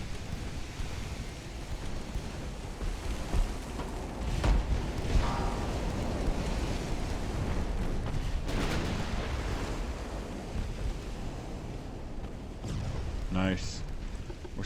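Warship guns fire during a Black Sea naval battle in the game Ultimate Admiral: Dreadnoughts. Heavy booms sit over a constant roar of wind and sea noise.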